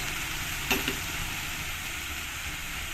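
Onion sautéing in a pan for a mustard pomfret fish curry, a steady close sizzle with a brief clink of a utensil near the start.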